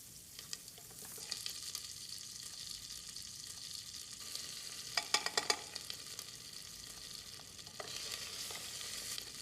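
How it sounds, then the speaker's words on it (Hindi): Onions and cumin frying in a pan for pulao, a soft steady sizzle with a few brief stirring scrapes around the middle, quiet and close with no voices. "प्याज जो है ना वो मीठा मीठा और पिंक होना चाहिए पकने के बाद"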